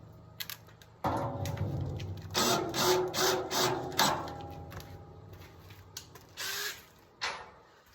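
A power drill drives stainless steel screws into a wood stove kit in bursts, the motor whirring up in several short runs with pauses between, close and loud.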